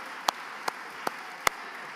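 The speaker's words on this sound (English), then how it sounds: "Clap for yourself." A few audience members at a Biafra independence declaration event applaud donors: four sparse, isolated hand claps, faint and evenly spaced, with no continuous applause.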